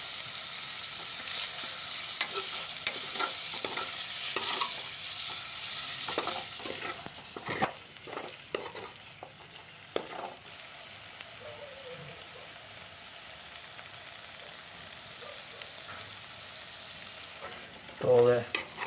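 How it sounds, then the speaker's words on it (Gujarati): Paneer cubes fry in a pan with a pinch of turmeric, a close crackling sizzle broken by spatula scrapes and taps, then settling to a quieter hiss, with a short louder clatter near the end. "તો હવે પનીર ફ્રાય થઈ ગયું છે"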